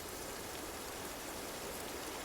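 Steady rain falls as a soft, even wash of raindrops with no breaks, faint and distant, alone with no voices.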